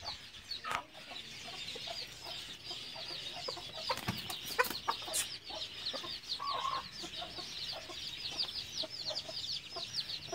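A hen and her chicks cluck and chirp softly and repeatedly at close range, with small scratching noises and a few sharper bumps among the calls.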